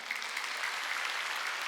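A church congregation at a Wednesday worship service claps together, a brief steady burst of applause filling the hall.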